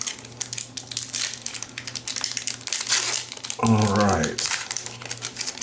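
Flair Marvel trading card packs are ripped open in quick crinkling, tearing bursts of foil wrapper close by, with a person talking over and between them.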